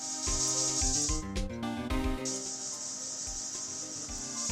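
Spray effect from the Phoenix Wright: Ace Attorney video game, a loud steady hiss over game music that cuts out briefly in the middle and then resumes.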